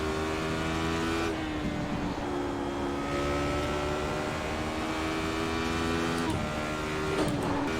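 Radical SR8 race car engine in the iRacing sim, a steady high-revving drone with layered harmonics that dips briefly for gear changes near two and six seconds before climbing again, loud and continuous throughout.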